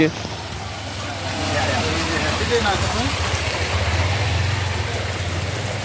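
Heavy rain falls as a constant broad rushing wash that swells slightly after the first second, while someone talks over it throughout.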